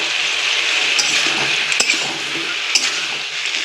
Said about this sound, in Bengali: মুখি আর মাছের মাথা দিয়ে একটু কষিয়ে নিলাম